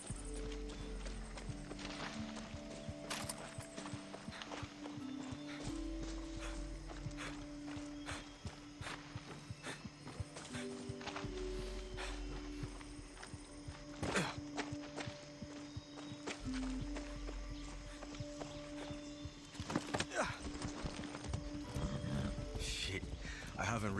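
Horse hooves clip-clop steadily through a Far Cry 6 game scene, a repeated walking rhythm close by, with game music, ambient sound and occasional voices over it.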